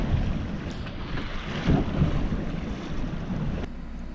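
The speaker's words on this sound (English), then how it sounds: "The wind picked up really bad." Strong wind roars across open water around a boat on a mooring ball, a constant gusty rush buffeting the microphone with low surging swell underneath.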